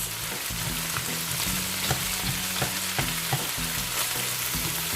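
Chicken, onion and garlic fry together in a pan, giving a loud, constant sizzle. Regular stirring knocks and scrapes of the utensil sound against it, and no one speaks.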